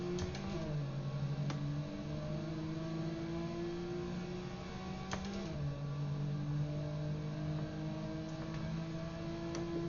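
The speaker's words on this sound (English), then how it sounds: "The Ferrari Dino then. A lovely car, great to drive." A Ferrari Dino 246 GT engine in a racing video game drones steadily throughout, with its pitch rising, dropping at gear changes and climbing again, loud and continuous with no talking.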